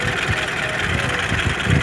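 A 1984 Opel Kadett D GLS with a 1.3 OHC engine, not yet fully warmed up, idles steadily with a low, even rumble and soft rhythmic pulsing, heard close up.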